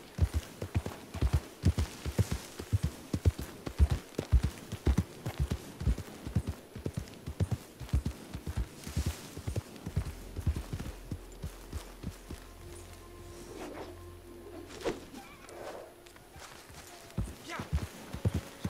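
Horse hooves clop in a fast, steady galloping rhythm in the video game Red Dead Online, loud and close throughout, with someone talking over them and a low engine-like hum midway.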